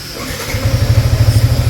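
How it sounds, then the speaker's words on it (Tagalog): A 2021 Yamaha Sniper 155 motorcycle engine idles close by, with a rapid, steady low putter throbbing evenly. "pakinggan natin yung tunog ng makina"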